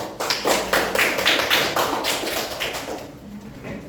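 A classroom of students claps for a student group after its presentation on zakat fitrah. The close applause rises in a quick rhythmic burst, then thins out and fades toward the end.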